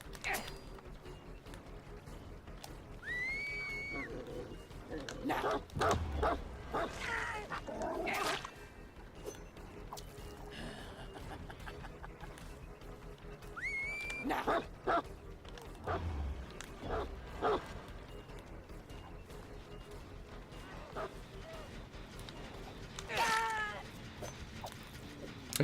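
The Houndmaster's dog in the video game Dead by Daylight, heard as several sharp barks and yips in scattered bursts amid game sounds, with whining tones, some thuds and a quiet continuous background.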